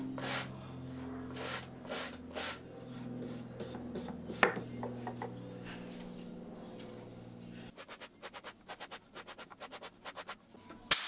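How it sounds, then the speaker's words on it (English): Walnut coasters having their sharp edges eased by hand sanding, a series of close rhythmic rasping strokes over a low hum, ending in a run of quicker, shorter scrubbing passes. "she did ease over all of the sharp edges with some hand sanding"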